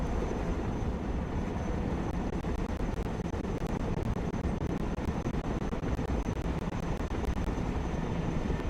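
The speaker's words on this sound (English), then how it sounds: "Helicopters are impressive machines. Boy, are they noisy." Continuous loud, broadband mechanical roar with a faint rhythmic flutter of a helicopter's rotor and engine in the video game Broken Arrow, steady throughout with no voices.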